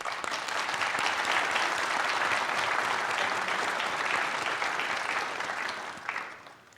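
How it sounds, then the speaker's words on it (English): Crowd at a nurse pinning ceremony gives a sustained round of applause, a dense, even wash of many hands clapping at moderate distance that swells, holds, then tapers off near the end. "Please join me in a round of applause."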